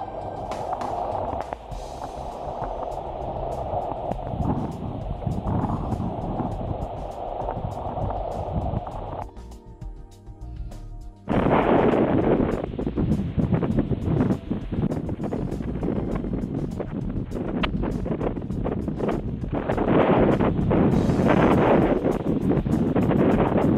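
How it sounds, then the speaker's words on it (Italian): Strong wind at sea buffets the microphone in a continuous loud, rumbling roar, briefly dropping off partway through before surging back even stronger. "oggi c'è un vento molto forte"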